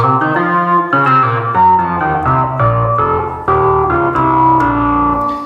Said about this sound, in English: If I put the three oscillators together, it sounds like this.